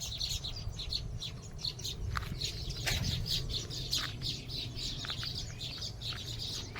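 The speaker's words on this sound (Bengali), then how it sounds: "দেখো পাখির আওয়াজ" Birds chirp and tweet in a lively, overlapping chorus across village fields with palm trees, repeated short calls at moderate distance over a low outdoor background, with no one speaking.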